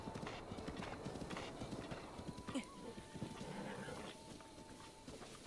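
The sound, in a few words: horse hooves clip-clop in Zelda Breath of the Wild video game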